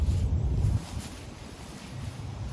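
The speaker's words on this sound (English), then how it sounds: "it's pretty windy out here" Wind on a disc golf course rumbles against the microphone in a low, blustery roar that drops off partway through, leaving a softer rushing outdoor ambience.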